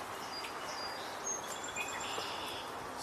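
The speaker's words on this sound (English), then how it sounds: "Song sparrow." A song sparrow sings faint, distant chirps and short trills from outdoor brush, a few high notes scattered over steady soft background hiss.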